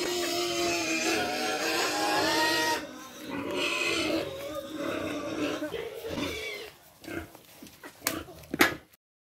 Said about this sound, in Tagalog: Ang ingay na yung aking baboy, friendship. Nanghingi na ng pagkain.